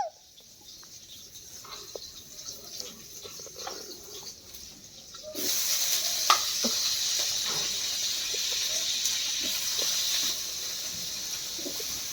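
Aloo dum, a potato curry, frying in a pan: a steady sizzling hiss that jumps louder partway through and stays strong, dotted with small pops and crackles, close by with no talk.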